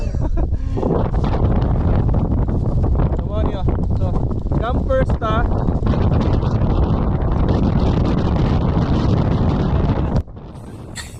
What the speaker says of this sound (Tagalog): pero grabe kusuga gid sa hangin